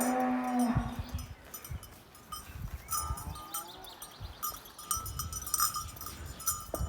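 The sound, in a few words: cows mooing on a farm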